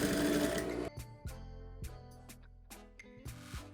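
Sewing machine running bursts of stitching through denim on a pair of jeans shorts, several close, loud runs of rapid whirring separated by brief pauses, no talking.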